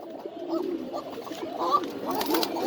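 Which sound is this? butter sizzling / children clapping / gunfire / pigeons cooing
pigeons cooing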